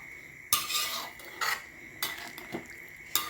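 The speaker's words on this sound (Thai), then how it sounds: "ผัดให้หมูสุกก่อน" Pork being stir-fried in a pan for a coconut curry with sweet potato, heard as a few sharp utensil clinks and scrapes against the pan at irregular intervals over a faint steady sizzle, close and fairly quiet.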